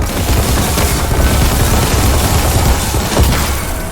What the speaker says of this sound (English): When you shoot it, it's pretty much like a P90